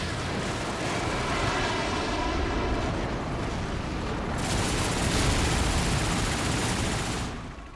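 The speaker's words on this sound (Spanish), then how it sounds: "¡Se acerca un helicóptero enemigo!" Enemy helicopter in the Call of Duty Reflex video game on Wii U drones as a continuous loud roar, with heavy gunfire and explosive noise mixed in throughout and no talking.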